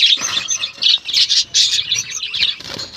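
A nesting pair of pet birds with eggs gives quick, bright chirps and squawks in rapid clustered bursts, loud and very close.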